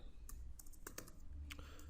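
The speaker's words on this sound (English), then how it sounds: "I'm just typing something like delete, or you can say the remove content." Quiet computer keyboard typing during a jQuery coding tutorial, a few scattered light key clicks over a low steady background hum, no voice.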